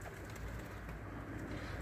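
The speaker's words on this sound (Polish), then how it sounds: "Nie wiem skąd ten gołąb." A homing pigeon, a racing bird with a red-tipped wing, coos softly in a low repeated murmur over a quiet background hum.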